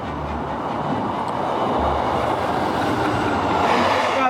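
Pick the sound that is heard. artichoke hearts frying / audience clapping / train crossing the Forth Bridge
train crossing the Forth Bridge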